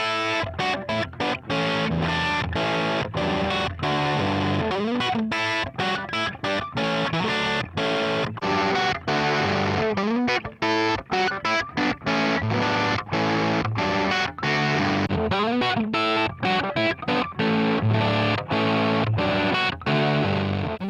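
Electric guitar played through a Line 6 Helix amp modeling processor, a distorted, driven tone with rhythmic chugging chords and short pauses, loud and continuous, with no talking.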